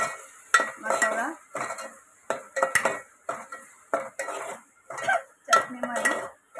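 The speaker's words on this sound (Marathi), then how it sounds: "चटणीमध्ये टाकलेला मसाला अशा पद्धतीनं हलवायचं सगळीकडनं" Spoon scraping and clanking against a pot while stirring chicken masala for a spicy red chicken curry, a run of close, irregular metallic scrapes and taps with a faint sizzle underneath.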